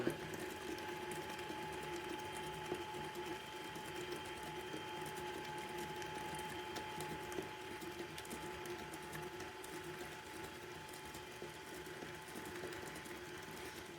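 Electric mixer whirring steadily as it beats eggnog cookie dough, a continuous mechanical drone with a faint rattle that holds even throughout, with no voices.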